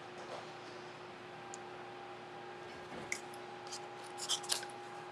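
A few crisp snips of new scissors during card making, sparse and close, with quiet room hum underneath and no talking.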